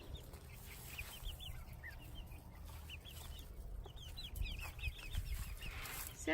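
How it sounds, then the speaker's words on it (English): Chickens cluck and chatter inside a chicken house, a busy chorus of short, overlapping calls that carries on steadily from close by, with no talking. "this is our chicken house"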